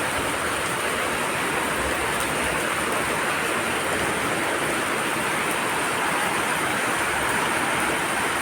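Heavy rain pouring down steadily in Mangaluru, a dense, continuous hiss with running water, loud and unbroken throughout with no voices.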